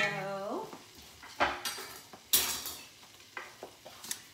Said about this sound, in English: And I'm adding 1 whole large onion.